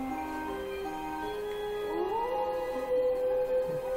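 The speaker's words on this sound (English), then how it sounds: "Well, I hear wolves howling." Wolves howl in drawn-out, rising and falling wails that overlap over a steady background bed, moderately loud, with no speech.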